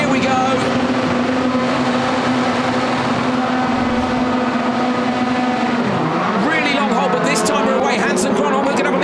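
Rallycross cars at the start of a world championship qualifying race in Catalunya hold loud, steady high revs, then launch with rising, surging engine notes that climb sharply. A commentator talks over the engines throughout.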